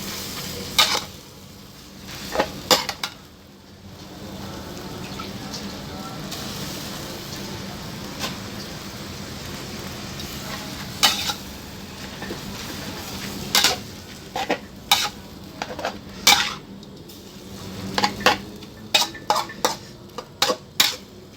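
Thin rice noodles stir-fried with pork in a pan: a steady sizzle runs throughout, broken by repeated sharp clanks and scrapes of a utensil against the pan.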